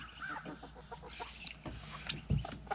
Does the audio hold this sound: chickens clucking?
yes